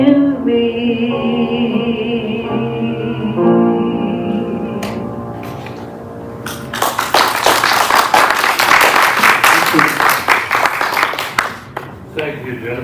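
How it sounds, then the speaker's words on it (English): An audience claps for a musician, the applause breaking out loudly after a sustained sung and played passage fades and continuing as a dense, steady patter. "So let's give her another round of applause."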